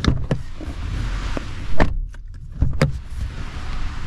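Rear door of a Hyundai Kona EV compact SUV opening and shutting, with sharp latch clicks and a solid thunk, several distinct impacts spaced over a few seconds against a low cabin background hum.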